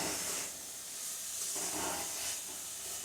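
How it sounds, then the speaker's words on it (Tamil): Vegetables with onion and tomato sauté in a pan for wheat samba rava khichdi, giving a steady, even sizzling hiss throughout. "இதையும் சேர்த்து நம்ம நல்லா வதக்க போகிறோம்."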